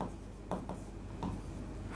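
Chalk or marker scratching on a board during a maths lesson, faint and close, with a few short rubbing strokes over a low room hum.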